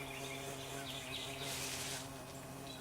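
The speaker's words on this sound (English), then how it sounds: "These are carpenter bees." Carpenter bees buzzing outdoors: a dense, steady drone close by that swells slightly partway through and continues without a break.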